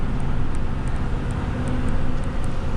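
A 2021 Ford F450 truck climbing a hill, a loud steady low engine drone heard from inside the cab, with faint high ticking over the top and no voices.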